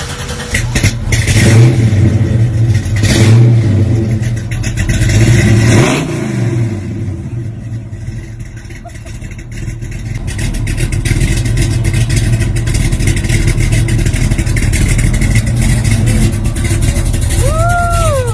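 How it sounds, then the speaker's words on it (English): A 1980s-style car with the same engine used in an El Camino revs loudly and continuously, with surging throttle blips early on and a steady rumbling engine note throughout, close to the listener. "I have the same engine in my El Camino, but it doesn't sound as good as yours."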